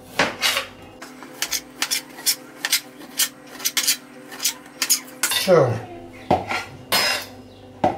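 Metal utensils clatter and scrape repeatedly against a pan while stir-frying beef strips, in a steady, busy rhythm, with a brief sizzle partway through.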